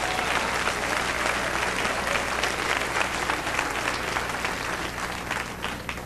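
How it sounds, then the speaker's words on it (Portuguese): Sustained applause from a church congregation during a sermon, a steady roar of many hands clapping together that holds throughout, with no one speaking. "Aplausos para o Deus da Bíblia"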